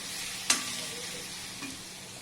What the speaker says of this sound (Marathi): खजूर आणि खोबरं हे पण आपण याच्यात परतून घेतोय आहे